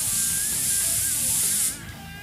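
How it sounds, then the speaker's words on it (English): An airbrush blasts a loud, steady hiss of spray for a quick cleaning, holding constant for most of the moment before cutting off abruptly into a fainter trailing hiss. "Give my airbrush a quick clean."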